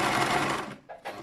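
A sewing machine stitches fabric for a braided turban hat in a close, loud, steady whir that stops briefly and then starts again in short bursts.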